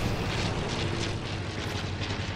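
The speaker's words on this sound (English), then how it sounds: "Watch out for that plane, please." Airplane flying overhead in the Fortnite video game, a steady broadband engine roar holding at constant loudness throughout with no talk over it.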